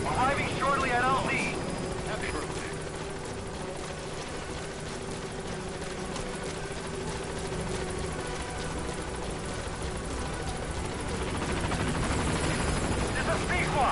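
The B-Quad helicopter in Metal Gear Solid V: The Phantom Pain arrives at a landing zone with a loud, steady rotor and engine drone that holds for the whole stretch, with voices speaking over it.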